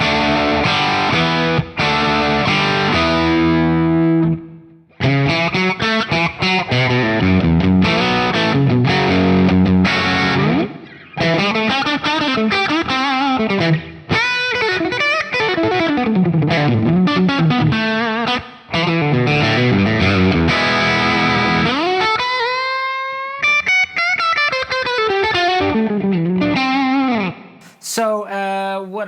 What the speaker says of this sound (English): It's a preset that I have called Blues Drive